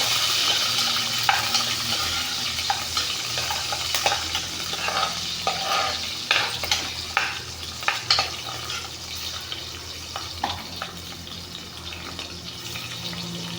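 Garlic and green chillies frying in a pan for ridge gourd chutney, a steady close sizzle with repeated spoon stirs and scrapes tapping against the metal, no voices.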